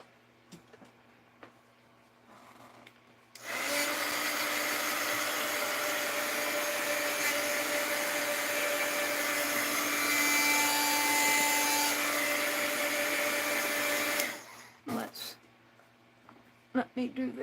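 A heat gun blows in a steady, loud roaring hiss for about ten seconds over a mixed-media lace project, starting abruptly and cutting off sharply, with quiet room noise and small clicks around it.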